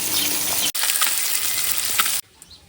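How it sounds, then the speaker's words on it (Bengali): Fish sizzles and crackles in hot oil with a steady frying hiss, broken by a couple of abrupt cuts. "এখানে মাছটা ভেজে দিই"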